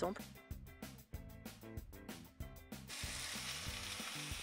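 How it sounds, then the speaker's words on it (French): Sausages fry in a pan on a campervan trip in the Pyrenees. Talk comes first, then a steady, close frying hiss takes over. "Ça, c'est de la belle vue pour cuire des saucisses."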